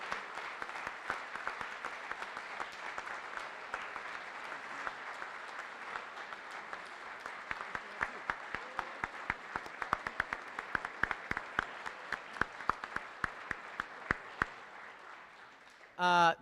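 An audience applauds at a Fort Knox garrison change of responsibility ceremony, with sustained clapping of many hands that holds steady, then thins to scattered individual claps near the end before a brief sharp noise.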